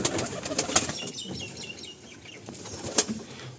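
Pigeons in a clean loft, wings flapping in a few brief bursts at close range, with soft fluttering and rustling in between and no voices.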